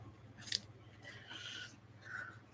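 Scissors cutting out a paper diagram for a hammered dulcimer build, a single soft near snip followed by quiet rustling cuts, faint and without talk.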